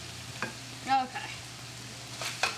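Pork seasoned with pepper fries in a pan with a low steady sizzle, while a utensil scrapes and stirs in a few distinct strokes, close by and without voices.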